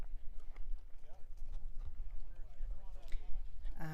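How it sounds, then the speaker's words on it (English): Horses clop in steady hoofbeats as two of them come in at the Robinson Flat checkpoint of a long-distance trail ride, their footfalls close and rhythmic under a person's talk, with a brief whinny near the end. "Okay, we got 2 more horses coming in."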